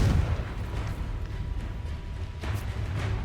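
In Hogwarts Legacy a Confringo spell blasts with a heavy low boom at the start, followed by a sustained rumbling roar and a second swell of blast noise near the end.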